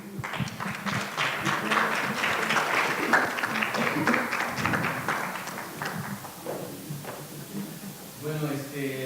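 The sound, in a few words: audience applause for lecturer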